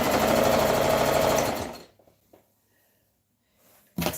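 A sewing machine stitches a gathered skirt in a steady, fast whirring run up close, then stops abruptly, leaving near silence broken by faint handling noises before a brief burst resumes at the end.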